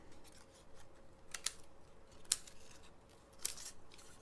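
Scissors trimming a paper card die produce three crisp, separate snips spaced about a second apart over a quiet, faintly hissing room.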